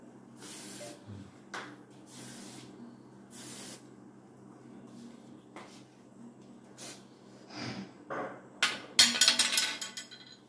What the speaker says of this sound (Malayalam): സ്പ്രേ അടിച്ചോ.